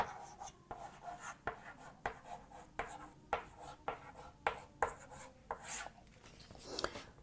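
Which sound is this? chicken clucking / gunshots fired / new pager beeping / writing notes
writing notes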